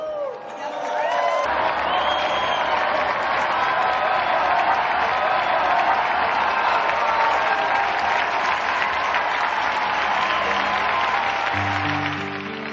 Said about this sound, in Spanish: brindemos nuestro más ferviente aplauso a sus mártires